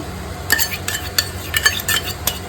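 A spoon stirs almond and cashew puree into paneer masala frying in a pan, scraping and clinking in quick irregular strokes over a soft sizzle, close and clear, no voices.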